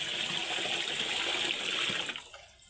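Water gushes steadily into a pot to soak moth beans, a loud close pouring rush that fades out after about two seconds.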